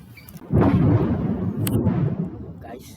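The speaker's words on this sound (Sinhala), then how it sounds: "අකුණු ගහනවා" Thunder during a rainstorm in front of a village house, a loud rumbling roll that swells suddenly and sustains for a couple of seconds, heard close and dominating the scene.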